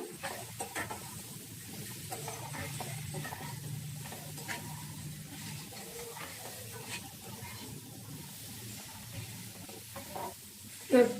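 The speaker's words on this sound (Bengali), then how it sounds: "এটা করে 1 মিনিট কষে নিতে হবে মশলার সাথে।" Elephant foot yam, fried potatoes and prawns fry with spices in a pan, a continuous close sizzle broken by scraping stirs and light clinks, with no talk.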